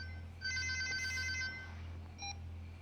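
Telephone ringing in a Tamil film scene: a short electronic ring burst lasting about a second, then a brief second chirp, over a low steady hum.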